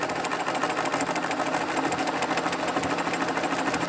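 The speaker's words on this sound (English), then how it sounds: "now I can just go flat to the floor as fast as the machine will go, and it will just feed its way around, appliquing down that edge" A sewing machine running flat out while stitching down an appliqué edge, a fast, even mechanical whir and rapid needle clatter, loud and close, unbroken throughout, with no voices.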